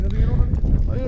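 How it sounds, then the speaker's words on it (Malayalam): Strong, cold mountain wind in Himachal Pradesh roars and buffets the microphone in steady, close gusts, forming a dense low rumble throughout. "ഒരു കാറ്റടാ, ഭയങ്കര കാറ്റ്."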